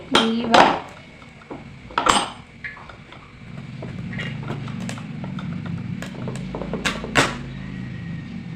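A knife cuts through a red pumpkin, giving several sharp knocks and cracks against the board at irregular intervals, separated by quieter stretches of low kitchen background.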